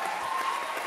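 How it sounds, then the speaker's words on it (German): Audience clapping at a stage show on eco-fascism, a steady dense wash of hands that holds evenly through the brief moment. "Jetzt klatscht ihr noch"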